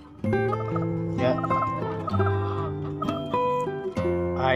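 F1 Bangkok cross hens call and cluck steadily in a dense, overlapping chorus that continues without a break from start to finish.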